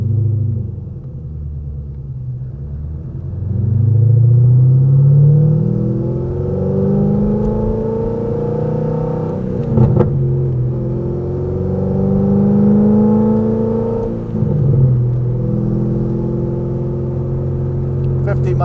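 A deep, powerful supercharged 2012 Corvette Z06 engine roars and climbs in pitch from first gear, dropping back between gear shifts before winding up again, loud and close throughout.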